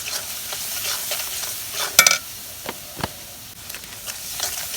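Fish curry of small river fish with salt, potato and eggplant being stirred and sautéed in a pan, a soft steady sizzle broken by scraping stirs and a few sharp clinks of a utensil against the pan.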